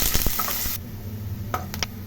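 Chopped coconut frying in ghee in a pan, a steady close sizzle with a few stirring scrapes of a spoon, fairly loud for the first moment and then quieter and steadier.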